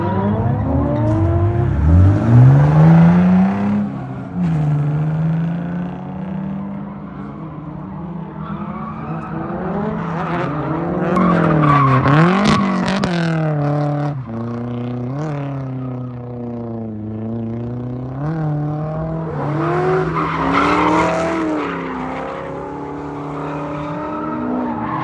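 A Nissan 240SX with a single-cam KA engine drifts, its engine revving hard and rising and falling in pitch while the tires squeal and skid, loud and close throughout.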